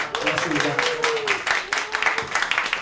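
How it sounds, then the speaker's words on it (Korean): An audience bursts into sustained, enthusiastic clapping, a dense patter of many hands continuing throughout. "특별히 더 큰 박수 부탁드립니다"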